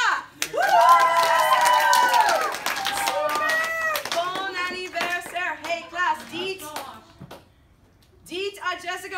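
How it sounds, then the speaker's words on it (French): A high school French class claps and cheers for a classmate's birthday, with a loud whoop and excited voices over scattered hand claps. "Applaudissez-la!"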